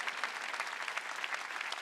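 A church congregation bursts into a short, dense round of clapping, heard from a moderate distance for about two seconds.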